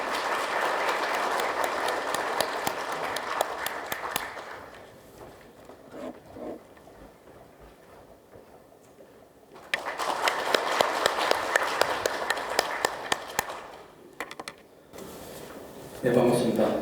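Applause from an audience welcoming the fire agency commissioner at a fire industry promotion policy briefing, a sustained clatter of clapping that fades into a lull, then swells again for several seconds before tapering off.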